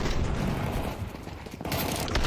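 Gunfire from the R8 revolver in the video game Counter-Strike, sharp reports cutting through a dense, constant layer of game noise and crowd-like din over a few seconds, with a brighter burst near the end.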